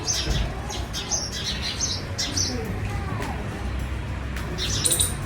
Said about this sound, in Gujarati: અહીંયા મોર્નિંગમાં તમે જોઈ શકો છો પંખીઓનો કલરવ.